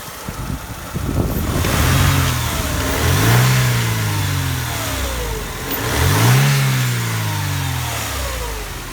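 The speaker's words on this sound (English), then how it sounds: "Little coarse" The engine of a 1998 Mercedes-Benz C230 revs up twice, rising and falling in pitch around a coarse idle, loud and close with no talking.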